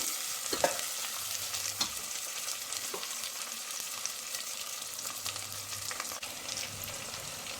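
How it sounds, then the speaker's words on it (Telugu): Whole spices frying in hot oil for an Andhra-style gongura curry, a steady broad sizzle with occasional scrapes and clinks of a stirring spoon against the pan, close and continuous with no talking. "ఈ ఆయిల్లో కొంచెం ఎర్రగా వేగిన తర్వాత అప్పుడు మసాలాలు వేసుకున్నాము"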